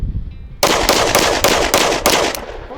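A firearm chambered in 5.7 NATO fires a rapid string of about seven loud, sharp shots at close range, evenly spaced, after a brief quiet moment.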